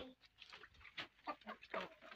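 Backyard chickens of an Indian breed cluck and murmur softly at feeding time, low and close with scattered short calls.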